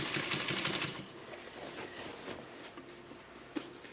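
A Dressmaker 2000 sewing machine stitches along a fabric side seam, a steady motorized whir that is loudest in the first second, then eases to a quieter, softer run with a brief click near the end.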